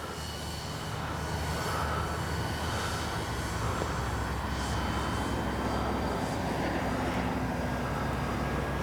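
Dynam P-61 Black Widow twin-engine RC warbird plane flying with flaps and landing gear up, a steady loud motor and propeller drone that stays constant throughout.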